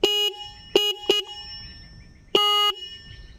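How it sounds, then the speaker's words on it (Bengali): The electric horn of a 2024 Hero Xtreme 160R 4V motorcycle sounds four times at close range: a longer beep, two quick short taps, then another longer blast, each a loud, bright, steady tone with quiet pauses in between. "এবার বাইকের হর্নের আওয়াজটা আমি আপনাদের শোনাবো"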